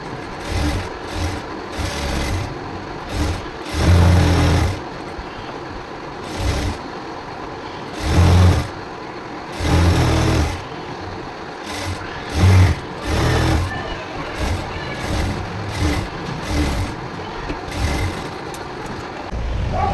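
A sewing machine stitches the side seams of a 34-inch blouse in repeated short bursts, running for a second or two and then pausing, close and fairly loud throughout with no talking.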